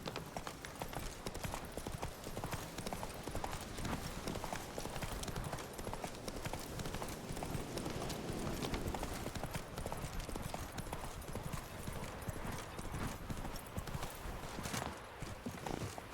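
Geralt's horse Roach galloping in The Witcher 3, a fast, continuous clatter of hooves that stays loud and even throughout, with a faint neigh.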